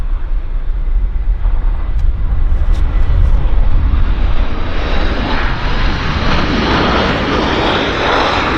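A heavy aircraft touching down at Vancouver airport, a loud, sustained engine roar that builds and broadens as it nears, rumbling low with a rising rush of noise toward the end, no voices.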